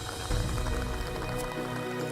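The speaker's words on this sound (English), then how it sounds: "Rainfall comes to Kasipuan." Rain falls steadily in a forest village in Kasipuan, a dense, even patter of drops close by that continues throughout without pause.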